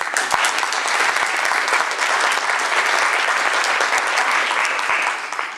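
An audience at an award luncheon applauds a platinum sponsor with dense, sustained clapping that stays loud and even throughout, with no voices above it.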